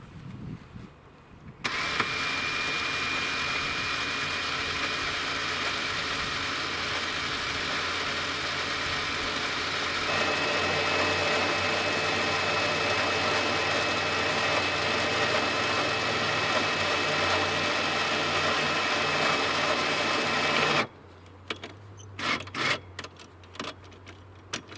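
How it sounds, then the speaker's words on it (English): Small electric winch on a bumper, run from a wired remote, reeling its cable back in: a steady, loud motor whine with a constant drone that holds for about twenty seconds, then stops, followed by a few faint clicks and rattles. "get this spooled back in so you can kind of wheel it in nicely, make sure it spools up good"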